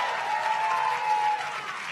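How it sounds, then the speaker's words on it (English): Steady applause from a crowd, a dense wash of clapping that holds throughout and eases slightly near the end. "we give our Speaker Emerita, Nancy Pelosi, one more round of applause?"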